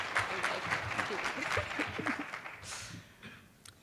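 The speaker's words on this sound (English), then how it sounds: "let's give him a round of applause" An audience at a university leadership awards ceremony gives a round of applause for an absent honoree, with brisk clapping that thins out and fades toward the end.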